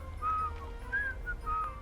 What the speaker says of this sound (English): I hear an outlaw whistling nearby.